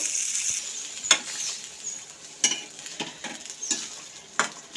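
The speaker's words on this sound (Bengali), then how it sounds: "এর মধ্যে দিয়ে দিচ্ছি সিলভার কাপ মাছ।" Raw, unseasoned silver carp pieces dropped into hot oil and frying, a close continuous sizzle broken by several sharp scraping stirs and clinks of a utensil in the pan.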